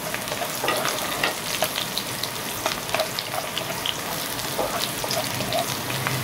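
Onions frying in a pan on a home stove: a steady, loud crackling sizzle fills the whole stretch, with scattered pops and faint stirring scrapes.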